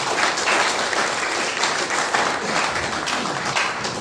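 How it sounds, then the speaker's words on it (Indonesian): A crowd at a community forum gathering in Pluit, North Jakarta, claps continuously, a steady, dense round of applause with no voices over it. "Tepuk tangan buat kita bersama."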